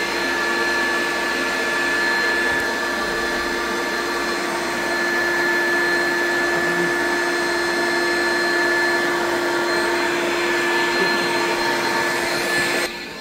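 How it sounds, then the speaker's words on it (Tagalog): A vacuum cleaner drones loudly and steadily, its motor whine holding an even pitch throughout with no voices. "i-on ko lang sandali yung vacuum"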